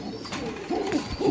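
Pigeons at a pigeon farm coo in low, repeated throaty calls, close and moderately loud against a murmuring background, with no one talking.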